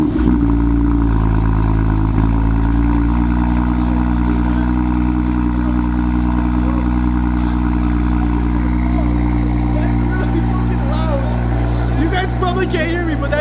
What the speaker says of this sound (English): All right, guys, we're about to start the car.